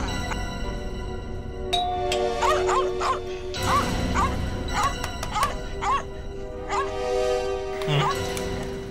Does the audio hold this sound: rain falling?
no